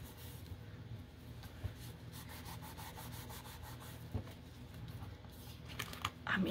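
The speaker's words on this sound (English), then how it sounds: "I might just have to trim a little corner of that off." Paper ephemera gets a small corner trimmed, heard as quiet close rustling and a few light snips and scrapes of paper against a work surface, with no one speaking.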